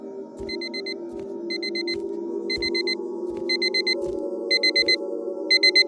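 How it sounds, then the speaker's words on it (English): An alarm clock rings in repeated bursts of bright electronic beeping, the groups coming faster and louder over a low droning hum, each accompanied by a dull thump. "My alarm clock."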